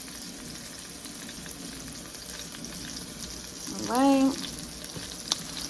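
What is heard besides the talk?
vegan steak frying in a pan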